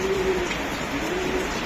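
A light-coloured racer pigeon in moult coos softly in a close, steady low murmur, with a faint continuous hum behind it and no talk over it.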